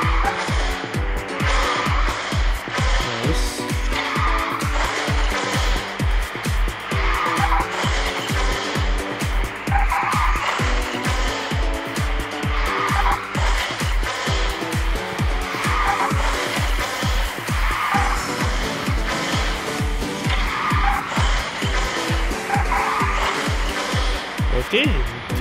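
A racing car skids through turns in the QQ Speed mobile game, giving steady engine drone and repeated tire squeal that swells in regular waves, with game music running loudly underneath throughout.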